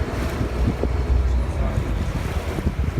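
Steady low rumble of a boat engine in Italy with water wash and wind buffeting the microphone, continuous throughout.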